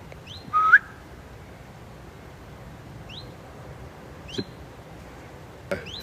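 A person whistles a short rising note, and a bird answers with a few sparse, thin chirps in an otherwise quiet space.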